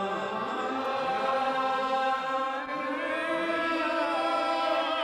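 Congregation singing the Gaelic psalm tune Martyrdom, many voices drawn out in long sustained lines with singers slightly ahead of or behind each other, producing a dense, continuous, overlapping choral sound.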